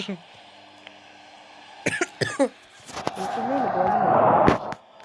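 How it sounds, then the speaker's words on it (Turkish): A few sharp coughs close by, followed by a person talking over a steady background hum. "Öksürüyor"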